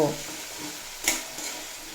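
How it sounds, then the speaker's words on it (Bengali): Spices fried in a pan with Kashmiri chilli powder and turmeric make a soft, close sizzle with one sharp scrape of stirring midway, quiet and brief with no talking. "লঙ্কার গুঁড়ো আর কালারের জন্য পরিমাণ মতো হলুদের গুঁড়ো দিয়ে খুব ভালোভাবে মশলা কষিয়ে নেব"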